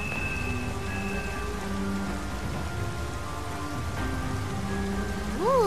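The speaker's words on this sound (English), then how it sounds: "It just started pouring all of a sudden." Steady heavy rain patters continuously in Persona 5 Strikers over a soft background of sustained musical tones, with a rising swoosh near the end.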